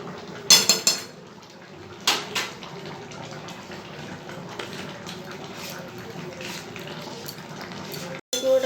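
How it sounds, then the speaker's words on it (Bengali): Chilli chicken is stirred in a pan after pepper powder goes in: a few close metallic clinks and scrapes of a utensil against the pan, then softer scraping and low sizzling. "গুঁড়োটা দিয়ে একটু নেড়ে নিলাম"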